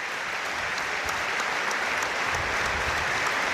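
A full crowd at Windsor Park's National Stadium applauds in memory of three Northern Ireland players before a Nations League match against Luxembourg, making a broad, steady roar of clapping that carries on evenly throughout.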